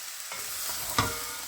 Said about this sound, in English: Just cook them for a couple of minutes. Just keep stirring them around.